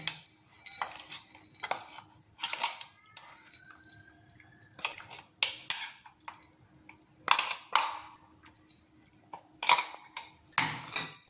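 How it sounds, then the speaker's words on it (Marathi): Peanut chutney being spooned from a container into a bowl, a series of close metal spoon clinks and scrapes against the vessel in short irregular bursts with quiet gaps between. "आपण एका भांड्यात काढून घेऊ."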